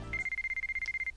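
A phone rings with an incoming call in the visual novel White Album 2, a rapid electronic trill of about a dozen evenly spaced pulses in one continuous burst, clear and fairly faint.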